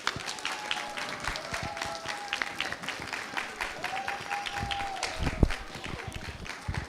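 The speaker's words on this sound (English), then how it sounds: "Let's give ourselves a big round of applause." Audience of elementary school students and guests applauding at a book award and certificate ceremony, a dense burst of clapping from a crowd indoors, with a few whistle-like tones and murmured voices mixed in.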